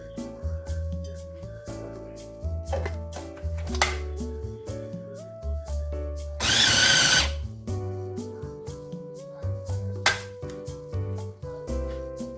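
An electric chopper coarsely chops dried shrimp in two short, loud whirring bursts over background music.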